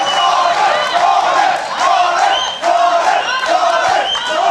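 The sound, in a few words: crowd cheering at combat jiu-jitsu match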